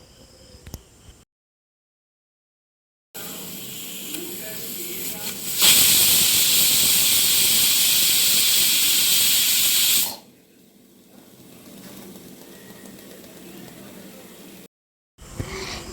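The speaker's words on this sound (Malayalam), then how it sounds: "കുക്കറിൻ്റെ ഒരു വിസിൽ നിങ്ങൾ കേട്ടില്ലേ" A pressure cooker whistle releases a loud, steady rush of hissing steam for several seconds while cooking biryani, bracketed by quieter kitchen noise and short silences.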